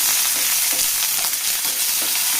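Curry leaves hit hot oil with fried rice grains for a Kerala-style beetroot thoran, producing a loud, steady, close crackling sizzle throughout with no voices.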